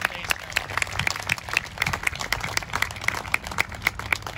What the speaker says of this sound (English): I would like a quick round of applause for them playing their contribution to today's ceremony